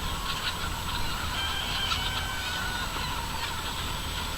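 California white chickens on top of a truck in the early morning, a dense continuous flock chorus of clucking and squawking, steady and fairly loud throughout.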